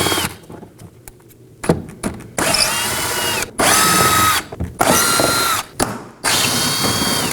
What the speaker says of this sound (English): start removing our T15 torque screws using a T15 bit on a drill